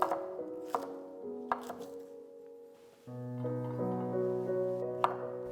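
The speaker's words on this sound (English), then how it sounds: "Remove the end bits from the gailan stalks, then chop down into bite-sized pieces." A knife chopping gailan stalks into bite-sized pieces on a board, a handful of crisp separate knocks under soft background music.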